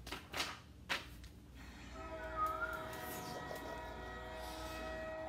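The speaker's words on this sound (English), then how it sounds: "A train." A passing train sounds effect: a few sharp clanks and knocks open, then a sustained multi-tone train horn or whistle swells in and holds steady to the end, fairly loud and without speech.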